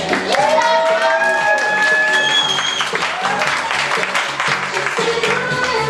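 An audience at an open mic poetry slam claps and cheers loudly and steadily for the DJ, with music playing underneath throughout.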